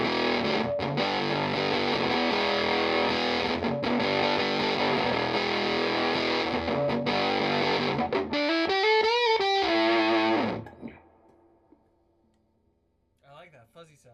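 A Sterling StingRay SR30 bass guitar through a fuzz effect plays a thick, buzzy, sustained distorted tone, ending in a few bending notes before it cuts off into near silence with a brief faint sound at the end.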